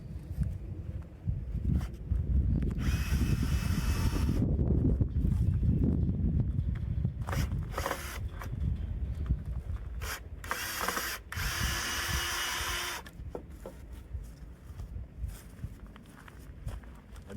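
A power drill backs screws out of a hoop house frame outdoors, giving close, loud bursts of whirring drive mixed with ratcheting clicks, clunks and handling noise, in several separate runs with short gaps.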